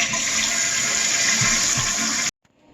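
An old-style toilet tank with a broken float runs hard, loud steady rushing and spraying water that cuts off abruptly near the end, leaving brief faint drips.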